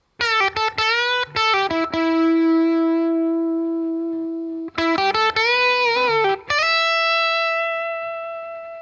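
Electric guitar solo played through effects with distortion, several quick picked notes then long sustained ringing tones, a second burst of fast notes and another held note, loud and alone.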